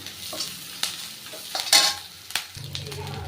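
Tempering sautéing in a pan for a ragi kozhukattai breakfast, crackling sizzle broken by several distinct spatula stirs and scrapes against the pan.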